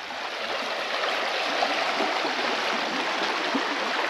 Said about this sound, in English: just sit here for a couple of hours in the shade, listening to the water run